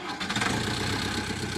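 Modded tractor with different exhausts in Farming Simulator 19 runs with a steady, throaty low engine drone, even and continuous at close range.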